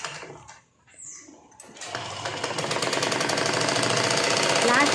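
A sewing machine stitching thin blouse fabric starts after a quiet opening with small handling sounds, then runs as a rapid, steady mechanical chatter that builds slightly in loudness to the end.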